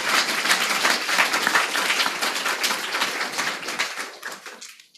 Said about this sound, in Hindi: प्रभु के लिए तालियां बजाएं।